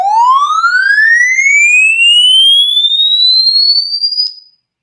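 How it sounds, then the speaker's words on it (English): A pure electronic sweep tone glides smoothly upward in pitch from low to high over about four seconds, loud and steady, with faint overtones, then cuts off abruptly into silence. "to have it increasing linearly from 1 up to 5 kilohertz over a course of 5 seconds"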